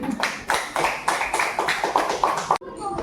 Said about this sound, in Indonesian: ini presentasi dari kelompok satu. Tepuk tangan.